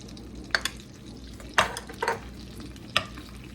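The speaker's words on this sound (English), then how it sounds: "I'm melting about 1/3 cup of butter in here. To that, I'm going to add 1/3 cup of chopped onion." Chopped onion cooks in melted butter for a turkey pot pie: a gentle, steady sizzle broken by a few sharp spoon scrapes and clinks against the pan.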